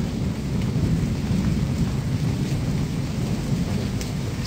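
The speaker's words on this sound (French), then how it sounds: "Orage, pluie. Et ça tonne. Mais ça tonne fort." Heavy rain pours steadily in Agadir, Morocco, while deep thunder rumbles loudly and continuously underneath, no voices.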